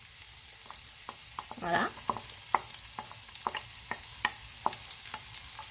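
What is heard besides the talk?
onions caramelizing in a pan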